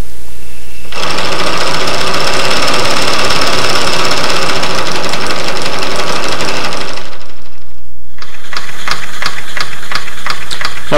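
A small-scale Roundhouse Engineering live steam locomotive runs loud and close with a dense, rapid chuffing and hiss for about six seconds, stops briefly, then restarts with sharper, evenly spaced exhaust beats.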